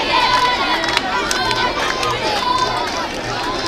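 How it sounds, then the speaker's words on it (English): Supporters of Orlando Magic Football Club clap and shout at the Box Bar Mini Stadium during a Brikama Nawettan play-off match, a steady crowd roar with scattered claps and a few whistle-like tones throughout. "You could hear those claps and shouts coming from the supporters of Orlando Magic from the Box Bar Mini Stadium."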